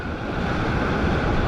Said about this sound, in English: You've got the water lapping around your ankles.